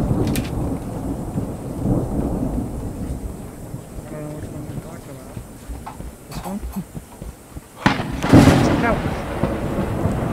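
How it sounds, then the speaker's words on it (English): Thunder rolls through a storm in Escape the Backrooms, a deep sustained rumble over steady rain, swelling into a loud crack near the end. "I just hear thunder."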